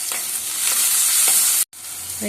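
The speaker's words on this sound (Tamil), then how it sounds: "வெங்காயம் வதங்கிடுச்சு தக்காளி போட்டுக்கலாம்" Onion and tomato frying in hot oil for a mutton bone curry, a loud steady sizzle with a few stirring scrapes, broken by a brief silent gap before the sizzle resumes.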